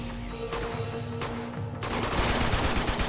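AK rifle fire in Uncharted 2: Among Thieves, with loud bursts of automatic shots that run into a dense, sustained volley toward the end, heard alone.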